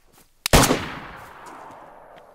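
A single gunshot in the video game DayZ, preceded by a faint sharp click, then a loud close crack with a lingering reverberant tail fading over about two seconds.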